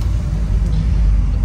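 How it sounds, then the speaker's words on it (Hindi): Inside a taxi moving through heavy city traffic in Turkey, a loud, steady low engine and road rumble fills the cabin. "अभी हम टैक्सी में देखे निकल पड़े हैं, ट्रैफिक बहुत है।"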